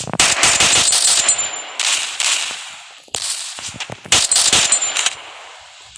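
Video game gunfire crackles loudly in several rapid automatic volleys separated by short pauses.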